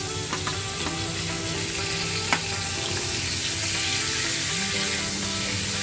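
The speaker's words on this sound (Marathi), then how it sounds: "तर आता मी हे आपले टोमॅटोचे काप पण त्यात फ्राय करते आहे" Tomato slices fry in about a spoonful of hot oil for a paneer vegetable curry, making a steady close sizzle with occasional stirring clinks and nobody talking.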